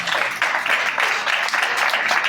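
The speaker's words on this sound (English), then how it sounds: "Clap it up for Colin." A basketball banquet audience for a unified team claps for Colin, dense steady applause filling the room throughout.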